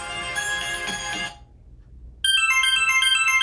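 Asus ZenFone 9 ringtone from stereo speakers with strong bass: a bright melodic tone pattern plays loudly, cuts off into near silence, then resumes with a repeating chime phrase, close and clear, with no talk.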